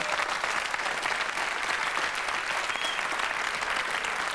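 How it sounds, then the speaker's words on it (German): A large German TV studio audience applauds Boris Becker continuously, a dense, even wash of clapping that holds steady throughout. "Ihren Applaus für Boris Becker!"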